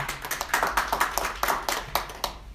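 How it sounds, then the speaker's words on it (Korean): Scattered clapping from a small group at a civic groups' press conference, individual claps distinct and uneven, steady for a couple of seconds with no talking. "박수 칠 때는 마음껏 쳐주시기 바랍니다"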